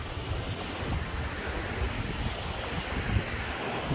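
Surf rolling onto a wide sandy Baltic Sea beach near Leba in Slowinski National Park, Pomerania, Poland, a steady broadband wash with wind noise buffeting the microphone, continuous and fairly loud throughout with no voices.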